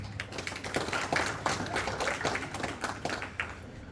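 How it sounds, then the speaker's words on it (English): Audience applause at a cricket club presentation evening held at a Hindu temple in Derby, a steady dense patter of many hands clapping throughout, moderately loud with no talk. "So a big round of applause for all of you."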